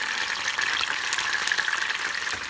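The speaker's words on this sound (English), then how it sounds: "if you do this process of frying the onions and getting them caramelized" Onions frying in oil for mangú, a dense, steady crackling sizzle heard up close with no voices.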